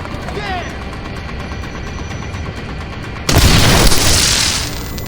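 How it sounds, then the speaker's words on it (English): A flashbang grenade detonates with a sudden loud bang in Splinter Cell Blacklist, its bright blast and ringing wash lingering over ongoing gunfire and shouted combat voices. "I'm throwing a flashbang!"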